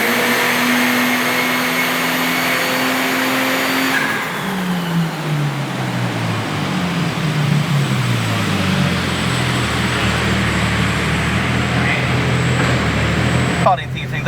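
A petrol-fuelled VL Calais engine, built to about 280 horsepower with a TH400 transmission, cranks into life after a steady tone, then settles into a loud, continuous idle with pitch wavering up and down as it runs, close by.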